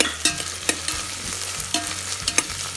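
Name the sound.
stirring onions frying in oil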